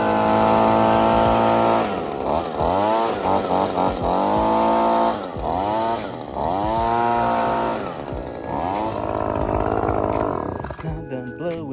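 A leaf blower runs loud and close during yard cleanup, its motor surging and dropping in repeated revving waves for several seconds before cutting off near the end, with talk mixed in.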